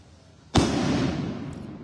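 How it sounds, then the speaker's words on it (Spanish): A single loud, close fireworks rocket bursts at a church procession for the Virgin in Sahuayo, a sharp crack followed by a long, rumbling crackling decay. "Si tú te preguntas por qué hay cohetes en este momento en Sahuayo, esta es la razón."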